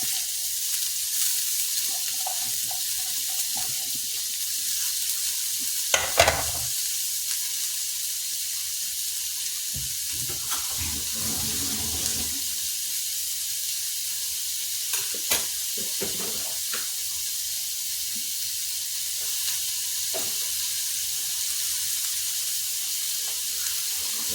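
Sliced onions sizzling in hot oil while being stirred in a pan, a quiet steady fry broken by a few clattering scrapes and knocks of the spoon, with no voices.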